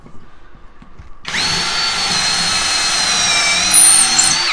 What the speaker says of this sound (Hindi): देख सकते हो कितनी जल्दी इसने होल कर दिया